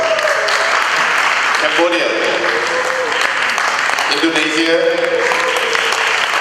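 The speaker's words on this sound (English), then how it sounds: "give them a round of applause" An audience applauds steadily at the opening ceremony of a youth volunteer programme in Malaysia, a dense, even clapping that carries on while a voice over the PA reads out a list of countries.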